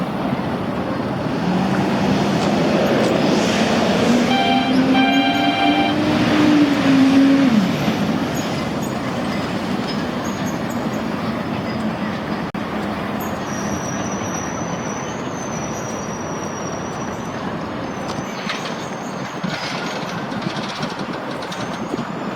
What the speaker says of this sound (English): So let's follow the train.